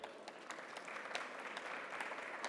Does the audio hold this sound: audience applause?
yes